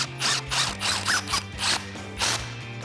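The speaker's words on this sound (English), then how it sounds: "take an 8 millimeter Allen key or an Allen socket" An 8mm Allen socket tightening the strut spacer bolts on a Ford F150 leveling kit, heard as a quick series of close rhythmic ratchet bursts with brief pauses between them and no talk.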